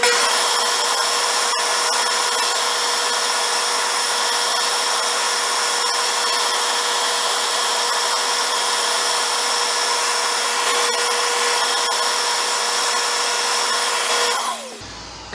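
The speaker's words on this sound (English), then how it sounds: "I am starting out with a freshly sharpened roughing gouge, and I'm going to take real thin cuts to start with till I get past all these rough edges" A steady, unbroken shaving hiss comes from a freshly sharpened roughing gouge taking thin cuts on a spinning segmented pen blank on a wood lathe. It holds at an even, loud level close by for about fifteen seconds before cutting off abruptly.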